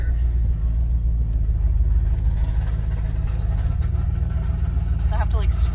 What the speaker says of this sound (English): I feel so bad because my car is so loud, and the exhaust is always like right